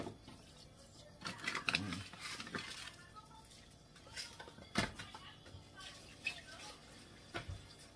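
A lid clanks down onto a pressure cooker pot holding salted beef for nilagang baka, with a few sharp metallic knocks and scrapes in a busy kitchen and softer clatter between them.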